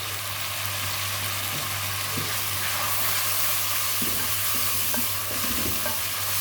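Turmeric and other ground spices fry in hot oil for a cauliflower and meat curry, a dense, continuous sizzle close up with occasional stirring scrapes under a low steady hum.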